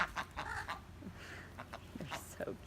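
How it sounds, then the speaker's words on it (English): Backyard homestead chickens, a flock that lays green and blue eggs, cluck in short soft bursts at close range, with a person talking over them throughout. "look at all these cool chickens"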